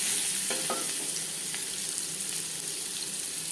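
Potatoes fry in hot oil in a pan, giving a loud, continuous, close sizzle with stirring and scraping as they are mixed through the oil.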